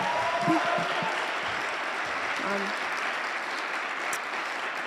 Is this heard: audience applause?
yes